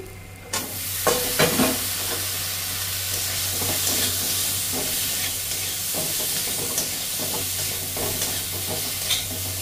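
Washed, cut potatoes go into a frying pan with turmeric, giving a steady close sizzle with scattered scraping and stirring clatters throughout.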